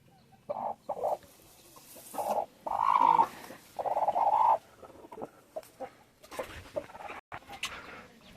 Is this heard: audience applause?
no